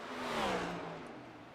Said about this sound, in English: Sounds like an ugly downshift.